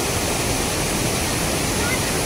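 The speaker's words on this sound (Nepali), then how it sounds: "हामी अहिले रूपसे झरनामा छौँ।" Rupse waterfall in Mustang, Nepal, gives off a steady, close, full-bodied roar of falling water that runs unbroken and fairly loud with no voices over it.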